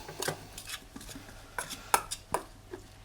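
Sandwich filling is mixed in a bowl with a utensil, giving a series of light, irregular clinks and scrapes, close and fairly quiet.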